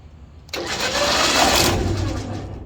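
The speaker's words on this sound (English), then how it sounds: "So as it starts to want to brake, it makes a horrible grinding noise." A MAXXD roll-off trailer winch with a slipping brake starts up with a loud, rough grinding roar that continues steadily, a mechanical grating under a heavy engine-like drone.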